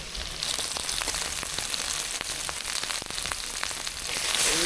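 Turmeric, salt and spices fry in a pan for a shrimp and coconut-milk taro-stem curry, giving a steady close sizzle with faint stirring ticks throughout.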